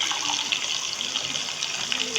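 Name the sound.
pouring water into mutton pulao masala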